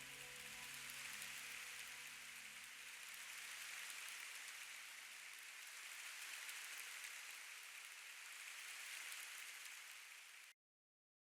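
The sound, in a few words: subtle rain sound effect in a music track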